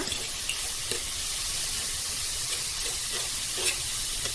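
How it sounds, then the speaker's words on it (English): Steak with onions and peppers sizzles steadily in oil on a hot grill, a continuous loud hiss broken by small pops and light scraping as the food is tossed around. "Toss everything around so everything is coated in the oil that I have down here."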